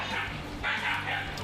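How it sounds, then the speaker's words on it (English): A dog barks outdoors during a barbecue cookout, two or three quick barks close by, mixed with background voices. "Don't worry about the dog."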